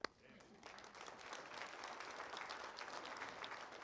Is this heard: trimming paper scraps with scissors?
no